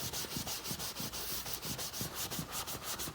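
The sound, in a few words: sanding off PU lacquer and paint from leather sofa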